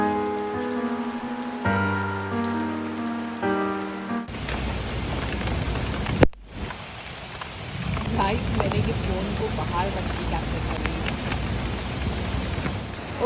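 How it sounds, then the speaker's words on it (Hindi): Heavy rain pours down in Dubai, a loud, dense and steady roar close by. It begins after a few seconds of tonal sound, with a brief dropout partway through. "इतनी तेज बारिश हो रही है भाई"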